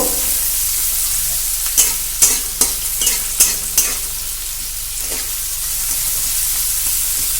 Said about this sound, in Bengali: আধ ভাজা মতো পেঁয়াজটা করে নেব।